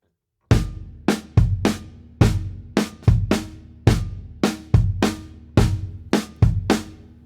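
A drum kit plays a quarter-note triplet pattern: sharp, evenly spaced hits in repeating groups, each ringing out briefly, loud and close with no other sounds.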